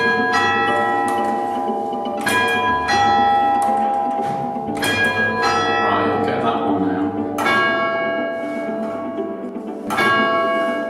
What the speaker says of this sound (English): These eventually led to the ringing of the bells in the tower above us.